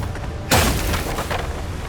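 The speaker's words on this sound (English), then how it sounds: "We better start using them grenades" A grenade explosion in the fantasy video game Avowed hits as one loud, sudden boom after a half second of quieter sound, then a rumbling, crackling tail that stays strong to the end.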